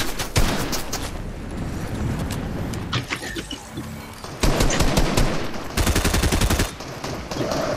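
Rapid bursts of video game gunfire rattle through a busy online shooter match, automatic volleys clustering in loud dense stretches with brief lulls between them, no talk over it.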